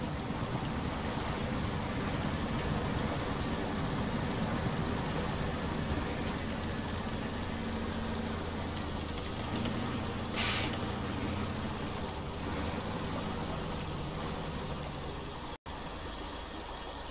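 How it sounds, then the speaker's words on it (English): A truck engine idles steadily in SnowRunner, a low continuous rumble with a broadband hiss over it, holding evenly for the whole stretch apart from one brief higher hissing burst midway and a sudden cut near the end. "Now I can run the engine."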